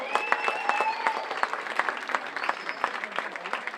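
Audience applause at a youth swimming race in Tione, a steady spread of clapping hands mixed with scattered crowd voices and a few whistles.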